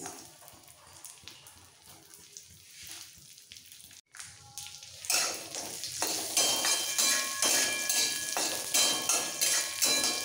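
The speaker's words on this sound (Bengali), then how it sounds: "কাজু আর কিশমিশটা একটু ভেজে তুলে নেব" Crackling sizzle of cashews and raisins frying in hot ghee, quiet at first then louder and denser, with light stirring clinks; no talk.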